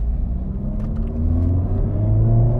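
Honda Civic Type R FL5 engine pulling under load, a continuous close rumbling drone whose pitch climbs steadily as revs build while driving, with faint road and wind noise underneath.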